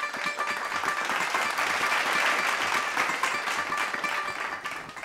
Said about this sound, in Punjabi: ਜ਼ੋਰਦਾਰ ਤਾੜੀਆਂ ਤਨਿਸ਼ਕ ਦੇ ਲਈ